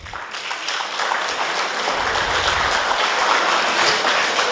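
Audience at a gathering of elderly residents in Ravne na Koroškem applauds a woman being honoured, clapping rising and holding steady, fairly loud and continuous with no talk.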